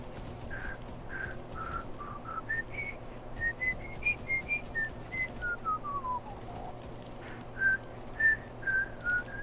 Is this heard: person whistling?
yes